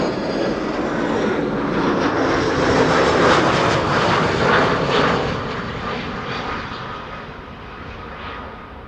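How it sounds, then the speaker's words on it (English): An EasyJet Airbus A320 arriving from Liverpool passes over Amsterdam Schiphol Airport, a broad jet roar that swells to a peak mid-pass and then slowly recedes. "EasyJet coming in from Liverpool now,"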